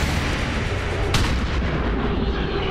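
A single heavy gunshot from a fire gun in the video game XCOM 2 cracks out about a second in, loud and close over a dense, booming battle din.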